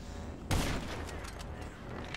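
Gunfire in GTA 5 Online on Xbox One: a single loud shot or short burst bursts in about halfway through, over steady game background noise.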